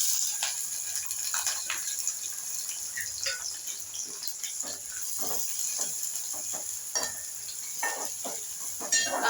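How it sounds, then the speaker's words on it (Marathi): Onion, curry leaves, five or six crushed garlic cloves and two thickly cut green chillies sizzle and crackle as they hit hot oil in a pan, a steady bright hiss with scattered pops and stirring scrapes throughout. "त्याची फोडणी देऊया."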